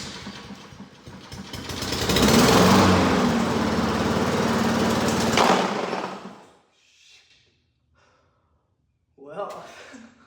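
A flipped lawn mower's engine fires up and runs loud and rough for several seconds, then cuts out into near silence before a voice speaks.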